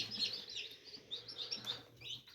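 Newly hatched baby chicks, fresh from an incubator, chirp in a steady stream of high, overlapping peeps at close range, with no talking.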